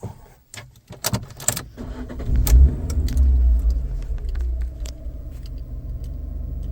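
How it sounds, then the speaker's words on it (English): Keys jangle inside a car fitted with an OBD2 reader and an aftermarket Android head unit, then the engine cranks and catches with a low rumble that settles into a steady idle, close up and with no talking. "If I start the car up"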